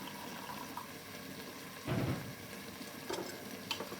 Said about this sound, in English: I'm going to fill it about a third of the way up with hot water from the kettle